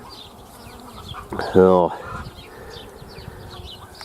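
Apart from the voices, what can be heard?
honey bees buzzing around a hive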